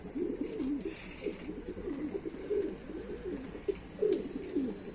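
A pigeon coos repeatedly in low, throaty rolling phrases, close by and steady, with a faint background hiss and no talking.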